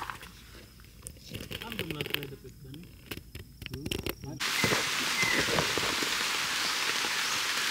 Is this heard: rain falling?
yes